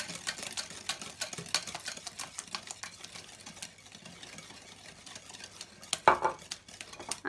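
A utensil stirs a dough mixture in a bowl while oil is poured in for Moroccan fakas, giving soft, steady rhythmic scraping and tapping strokes at close range, with a louder clatter near the end.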